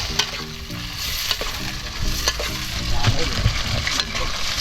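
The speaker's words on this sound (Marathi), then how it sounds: "आता तर गण्या हलवतोय चमच्याने कालवणातला मसाला" Outdoors in Aarey forest, a chicken gravy masala bubbles in hot oil while a spoon stirs it, making a busy, close sizzle with repeated clattering scrapes.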